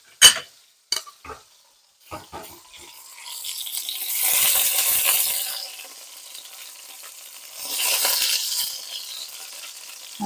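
Three or four sharp clacks open, then gluten-free chicken nuggets sizzle in a pan in two loud swelling bursts that fade between them; no one talks.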